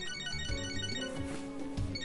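A phone ringtone in the Catherine Full Body video game plays a short, bright electronic melody of bell-like tones, clear and close for about two seconds.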